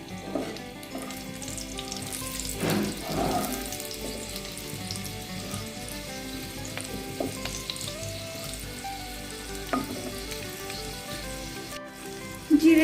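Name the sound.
cumin seeds sizzling and crackling in hot oil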